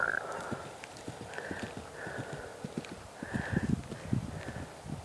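A mare running during a riding clinic, her hoofbeats a steady, fairly close clip-clop rhythm that continues through the whole stretch, with a few brief higher tones overhead.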